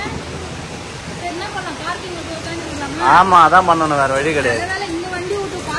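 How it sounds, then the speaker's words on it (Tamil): Heavy rain pours down steadily outdoors with a constant broadband roar, while people talk close by over it. "வந்து கொஞ்ச நேரத்துலயே சரியான மழை பெய்யுது."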